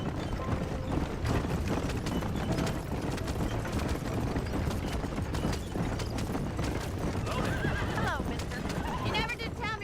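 A horse in Red Dead Redemption gallops with steady, rapid clip-clop hoofbeats, then whinnies loudly near the end, with voices talking over the hoofbeats throughout.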